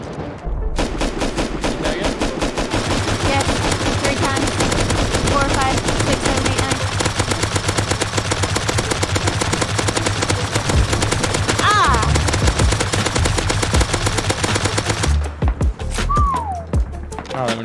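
Rapid automatic gunfire in the Rust video game fires in dense, continuous bursts for most of the stretch, loud and close, with players talking over it and a brief lull near the end.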